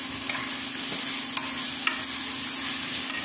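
Cinnamon, cardamom and clove powder with coriander, chili and turmeric powders sizzle steadily in hot oil for a mutton gravy, with a constant frying hiss and a few faint spoon clicks while being stirred.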